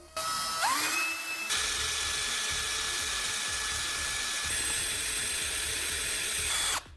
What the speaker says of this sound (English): Then start the drill at low speed.